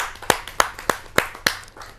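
Audience at a Hindi kavi sammelan poetry gathering claps five times in a slow, even rhythm, each clap sharp and close with quiet gaps between.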